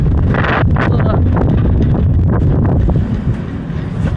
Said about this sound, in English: Okay, so you can see it is windy.